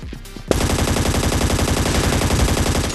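Rapid automatic gunfire from the battle royale video game Scarfall 2.0 erupts after a brief quieter lead-in, a loud, dense stream of shots that continues steadily to the end.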